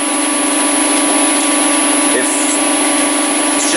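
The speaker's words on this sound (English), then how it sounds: "I'm out on the lathe, and I'm just breaking in this bearing assembly here" A lathe spins a bearing assembly to break it in, the part turning freely while resting against a tool fork, giving a steady, even machine whine and hum close by with no change throughout.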